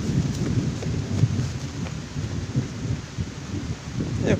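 Steady rain keeps falling hard outdoors while deep thunder rumbles underneath, a dense continuous wash with occasional louder swells and faint wind buffeting the microphone.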